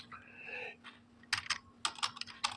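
Keys clack on a computer keyboard while typing in Notepad, several quick bursts of crisp clicks after a quieter opening, close and fairly soft.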